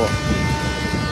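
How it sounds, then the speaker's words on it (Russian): A Moscow metro train, number 1503 and likely built around 2003, gives a loud steady rumble with a sustained tonal hum, heard close during a brief moment. "поезд красивый, номер 1503"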